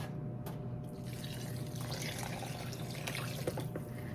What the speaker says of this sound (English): So now that we've got that in, let's go in with some broth.